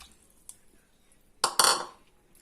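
Dried plums drop into a metal pot on the stove: a faint clink, then two quick, close clattering impacts of fruit hitting the pan.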